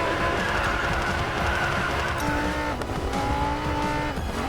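A car drifts in the racing video game Racing Master: a steady roar of game engine audio with tires squealing in long, wavering tones that rise and shift as the slide goes on, with no talking.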